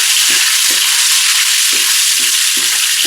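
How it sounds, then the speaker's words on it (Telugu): Lemons fry in oil in a pan with a steady, loud hiss of sizzling, broken by a few soft, rhythmic stirring scrapes near the microphone. "నిమ్మకాయలు కొంచెం షేడ్ మారే వరకు కొంచెం ఫ్రై చేసుకోవాలి"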